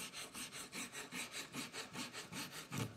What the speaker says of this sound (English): use a rasp like this, and take off anything you don't want